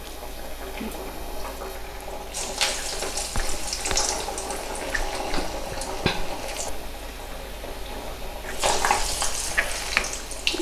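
Paruppu vadai, medium-sized lentil fritters, frying in hot oil, giving a continuous bubbling sizzle with brief louder crackling bursts, close and steady, with no talking.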